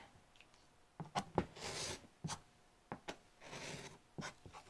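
Rotary cutter slicing through quilting fabric strips, heard as several short close scraping cuts spaced across the moment, with soft rustling of cloth between them and no talk.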